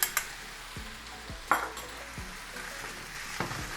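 Meat frying in its own juices with berbere spice, a quiet, steady sizzle broken by several sharp spoon scrapes and knocks against the pan as it is stirred.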